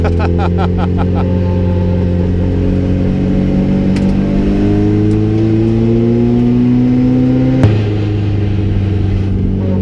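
Onboard a 249SX drift car at track testing, the engine drones loudly and steadily with rising and falling revs, a sharp shift-like break near the end, and a voice faintly beneath.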